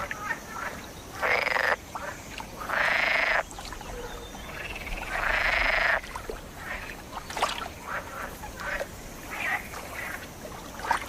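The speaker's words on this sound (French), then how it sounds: "Ces inlassables choristes sont des grenouilles vertes," Male green frogs calling for mates in a pond, a chorus of loud rasping croaks in long bursts with shorter calls and quieter frogs between, close by.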